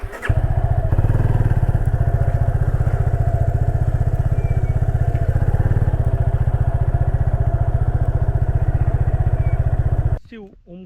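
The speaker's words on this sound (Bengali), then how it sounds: "বাইক এখানে পার্কিং করেছি।" Motorcycle engine idling at Murguma Dam view point in Purulia, a loud, steady close-up chugging throb that runs for about ten seconds and then cuts off abruptly.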